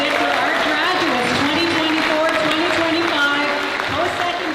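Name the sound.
applause for graduates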